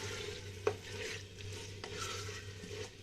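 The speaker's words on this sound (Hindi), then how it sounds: "सिर्फ 1 से 2 मिनट गोश्त को हिलाना है ताकि इसका रंग तब्दील हो जाए" Mutton pieces are stirred in a pan over high heat, giving a soft steady sizzle with occasional scrapes and one sharp clink of the spoon against the metal.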